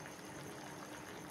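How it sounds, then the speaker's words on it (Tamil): Water at a steady rolling boil in a pot of aviyal vegetables, a dense continuous bubbling hiss heard close and fairly faint, with no talk. "பாருங்கள் தண்ணி கொதிக்குது"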